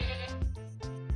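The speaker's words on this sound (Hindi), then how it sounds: "लाम को हिंदी में कहते हैं मेमना।" A lamb bleats in short, close, wavering cries, three or so quick calls in succession with nothing else audible.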